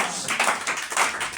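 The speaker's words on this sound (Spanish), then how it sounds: "Denle ese aplauso al Señor." Audience applause in a church service praising the Lord, a steady wash of many hands clapping at moderate volume for a short burst with no voices on top.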